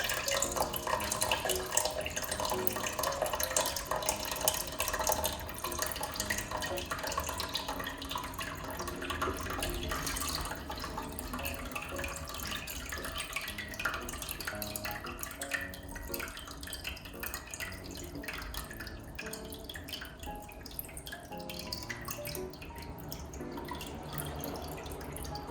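Water runs steadily from a tap into a sink or basin, a continuous splashing flow with dripping, fairly loud and even throughout with no talking.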